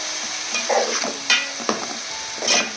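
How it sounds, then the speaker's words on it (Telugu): Onion paste fries in a pan for a korameenu fish curry, a steady close sizzle broken by several scraping stirs of a spoon. "ఇది బాగా గోల్డెన్ బ్రౌన్ కలర్లోకి వచ్చే వరకు ఫ్రై చేసుకోవాలి"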